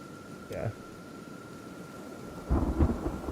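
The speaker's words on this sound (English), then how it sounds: "we're most of the way through the acid rain" Kenshi's acid rain storm gives a low rain hiss with two rumbles of thunder, one short and one heavier and louder near the end.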